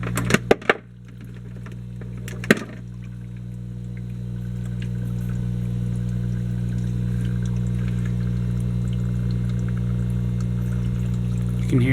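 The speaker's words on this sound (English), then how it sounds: "hear the water flowing." Water running steadily through an Odyssea canister filter on a 220-gallon aquarium setup, a constant close hum-like rush after a few sharp knocks at the start, with no talking.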